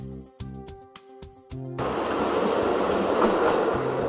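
A tourist train on rails in Kumamoto, Japan, first gives a few rhythmic clacks and tonal hums, then a loud continuous rumble of wheels and carriage as it runs close by.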